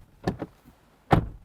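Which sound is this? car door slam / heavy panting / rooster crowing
car door slam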